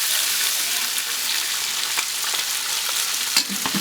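Pieces of snakehead fish pan-fry in hot oil, a continuous close sizzle and crackle with a brief knock near the end, and no voices.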